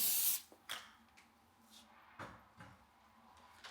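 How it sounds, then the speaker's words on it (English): A short burst of aerosol cooking spray hisses onto a pan at the start, followed by a few faint clicks and knocks of kitchenware in a quiet room. "A little spray."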